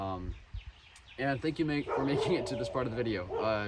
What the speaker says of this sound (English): Pardon my dogs, they're being a bit loud.